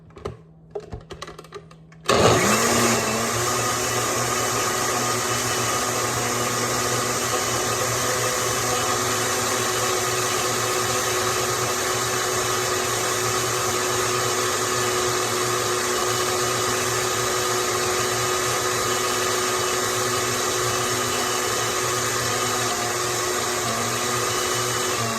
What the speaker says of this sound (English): we are just gonna blend away. This blender sucks.